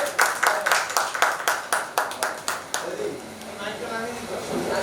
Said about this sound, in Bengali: মুন্নাদার নামে একটু জোরে হাত তালি